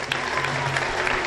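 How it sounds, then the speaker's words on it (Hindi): An audience claps together at a business seminar after a speech, a continuous mid-level wash of applause with a faint crowd murmur beneath. "जोरदार तालियों के साथ"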